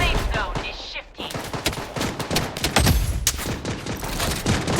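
Rapid automatic gunfire in the online shooter Blood Strike during a squad fight, loud, close bursts of cracking shots crowding together in a dense fusillade, with brief in-game voice callouts mixed in.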